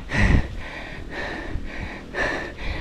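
A man breathes hard after climbing uphill outdoors, a few heavy, ragged huffing breaths in and out, close to the microphone, with no speech.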